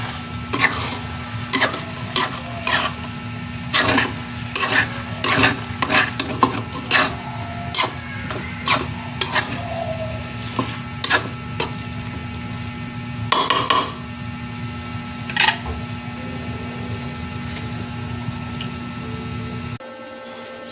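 Pancit bato guisado noodles being stirred in a pan, with frequent scraping and clattering of a utensil against the metal over a steady low sizzle and kitchen hum, fairly close and continuous for about twenty seconds.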